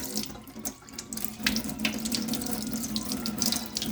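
Water pours steadily from a kitchen tap while blackened food is rinsed under it, giving a continuous close splashing rush with small shifting spatters and no speech.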